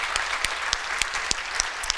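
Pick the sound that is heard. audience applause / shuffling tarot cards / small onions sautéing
audience applause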